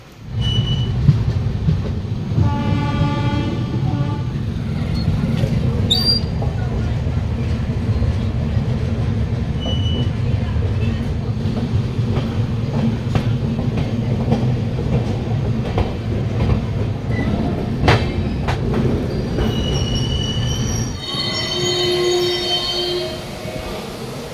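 The Rupashi Bangla Express on its Santragachi to Purulia run rumbles steadily through heavy rain, with a continuous loud roll of wheels on track, faint rhythmic clatter and high metallic wheel squeals near the start and end.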